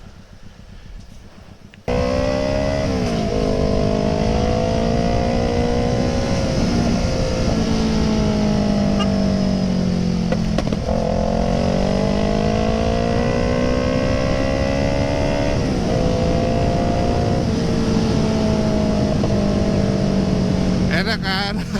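A Kawasaki ER6N motorcycle rides through busy traffic at moderate throttle. After a quiet start, a loud, close engine drone rises and falls repeatedly with the gear changes, and a voice talks over it.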